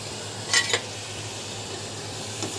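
Green chilli drops into a pan of red amaranth greens with a brief, close sizzle and clink, then a low, steady frying hiss continues on its own.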